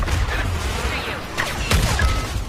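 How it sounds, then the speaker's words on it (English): Explosions and bursts of weapon fire from a Star Wars video game, a dense, continuous barrage with sharp cracks around the middle and later on. No one speaks. "the explosions."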